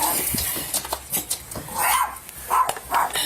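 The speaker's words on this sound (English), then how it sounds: "There's a dog out in that car over there." A dog barks from inside a car nearby, a few sharp yips and barks spread across the moment, moderately loud with faint background noise.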